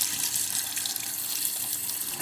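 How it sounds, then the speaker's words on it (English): Warm water runs from a tap over a clogged Canon inkjet printer part, a continuous hissing splash close by that stays steady with no speech over it. "You're just going to use some warm water"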